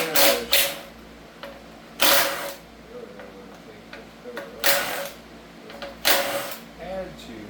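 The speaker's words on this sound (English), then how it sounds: "Let me take the bolts out." Bolts being removed during a teardown of a 5.3 AFM engine, several sharp ratcheting bursts spaced a few seconds apart with quiet gaps between them.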